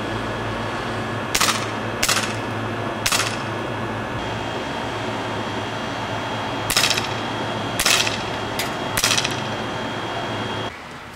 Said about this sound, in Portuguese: a gente fez aí um testezinho com ela, tá, com a pistolinha. A intenção nossa era acertar a garrafa.